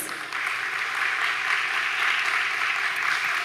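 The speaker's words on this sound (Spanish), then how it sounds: "Un fuerte aplauso para recibir a la señora Diulca Pérez" A seated audience at an international seminar on social justice and public policy claps steadily to welcome a speaker, a dense, even wash of hands that holds at a constant level for several seconds.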